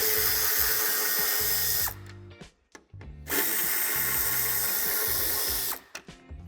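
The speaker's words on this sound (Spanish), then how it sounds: "Quitaremos los dos tornillos de Tor de 20." Power screwdriver backing out two Torx 20 screws on a 2017–2019 Škoda Octavia Scout III during tow hitch fitting, two loud sustained whirring runs separated by a short pause with a few clicks, no talking.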